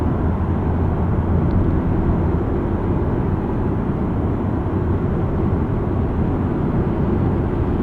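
Steady broadband cabin rumble of a 2015 VW Passat B8 Variant with the 1.4 TSI 150 hp engine driving through the city, low road and engine noise continuous and even throughout, no talking.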